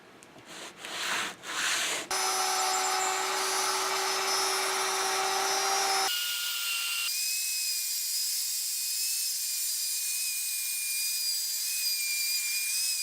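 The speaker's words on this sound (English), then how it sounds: "Each cut I make is only about a 1/4 inch deep. I adjust the router between each pass." A router spins up and cuts into wood on a circle cutting jig, a few short bursts giving way to a loud continuous high whine, then a steadier thinner hum as the bit keeps cutting.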